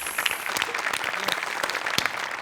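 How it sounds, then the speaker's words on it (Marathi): Studio audience applause for the writer of a comedy skit on a Marathi TV comedy show, a short burst of dense clapping filling the moment without talk. "चेतन डांगे या स्किटचे लेखक त्यांच्यासाठी टाळ्या वाजवायला पाहिजे"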